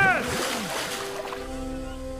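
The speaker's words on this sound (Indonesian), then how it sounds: "Jonas dan Basil terpaksa langsung melompat ke sungai" A film scene of people jumping into a river after a bridge is blown up, with a loud splash and churning water at the start that settles into a lingering dramatic musical tone.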